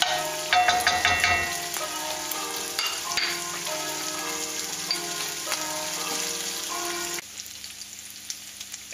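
Guanciale fries in a pan, a loud close crackling sizzle with sharp spattering pops early on, settling into a steady hiss that drops slightly near the end.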